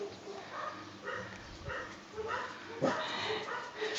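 A small dog yaps and whimpers in short bursts, fairly close, while a person talks over it.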